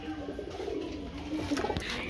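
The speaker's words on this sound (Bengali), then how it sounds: "এখানে বন্ধুরা দেখতে পাচ্ছেন আরেক জোড়া কবুতর" Pigeons in a cage coo softly and repeatedly in a low, rolling murmur, with faint rustling and background noise around them.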